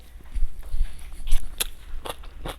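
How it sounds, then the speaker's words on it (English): Fresh homemade Korean kimchi crunches as it is bitten, a few crisp, sharp bites and chewing crackles close to the ear, spaced unevenly over a couple of seconds. "Did you guys hear that crunch?"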